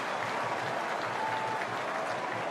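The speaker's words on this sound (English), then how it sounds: "The applause in the background as Hazelby, Pavlich and Medhurst are all rotated." Stadium crowd applauding at an AFL football match between Fremantle and Collingwood, a dense, continuous wash of clapping heard at a distance beneath the broadcast.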